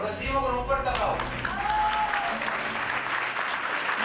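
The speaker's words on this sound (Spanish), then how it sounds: "Lo recibimos con un fuerte aplauso." Applause from a studio audience fills the room at a steady level as a returning guest is welcomed back on a television show. A voice speaks over the clapping at the start.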